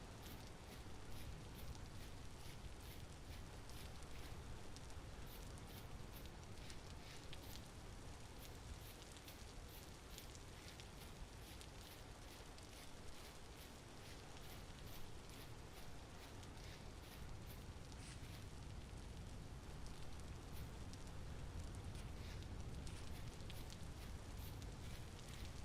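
Steady rain in Vintage Story during autumn, a soft, continuous patter and hiss at low volume, unbroken and without talk.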